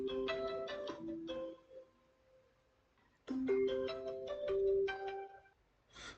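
A phone ringtone plays for an incoming call, two bright melodic bursts of chiming notes separated by a short silence, fairly close and with no talking over it.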